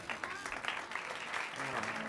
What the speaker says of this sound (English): if you give a round of applause